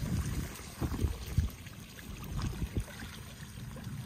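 Water in a ditch flows into a culvert pipe with an irregular gurgling and splashing, low and close, rising in small bursts before easing to a quieter trickle.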